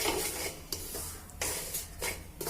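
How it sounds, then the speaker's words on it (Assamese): Semolina frying in ghee in a pan, stirred by hand for a laddu with coconut: steady scraping and rustling strokes with soft sizzle underneath and periodic louder scrapes, close and continuous, with no voice. "5 পৰা 6 মিনিট টাইম লৰাই দিব।"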